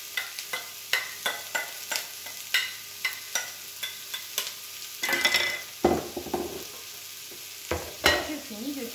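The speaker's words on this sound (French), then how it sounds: "Je commence à mettre mes légumes pour les faire revenir." Vegetables sauté in arbequina olive oil in a pan for a curry vegetable quiche, with a loud close sizzle and regular scraping stirs, then bursts of frying as more goes in.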